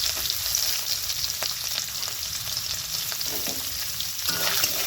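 Small pieces of chopped coconut fry in hot oil, giving a steady close sizzle with occasional stirring scrapes and faint crackles, loud and continuous, with no talking.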